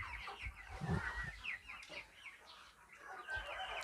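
KUB kampung chickens on a poultry farm clucking in short, scattered calls at moderate distance, with a few louder chirps standing out over a steady barnyard background.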